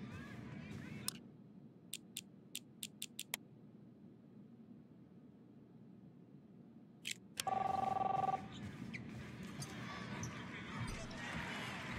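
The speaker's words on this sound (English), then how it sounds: "You don't hear the phone ringing off the hook?" A telephone rings in the video game The Awesome Adventures of Captain Spirit: a quick run of sharp, evenly spaced rings early on, then a longer electronic tone later over a low steady background hum.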